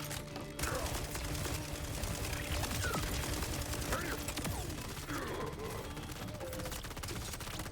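Rapid automatic fire from a deployed turret in a sci-fi shooter game, a dense continuous clatter of shots layered over busy battle noise and game effects, steady and loud throughout.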